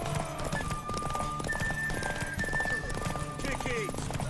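Rapid, rhythmic hoofbeats of a galloping horse in The Witcher 3 clatter continuously with a horse neighing, while a voice speaks over the steady galloping and a faint musical tone.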